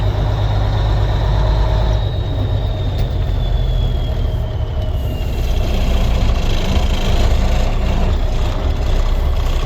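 A 1992 International 9200i truck with an N14 diesel engine runs steadily throughout, a continuous loud low rumble with a faint whine sliding downward in pitch, and no talk over it.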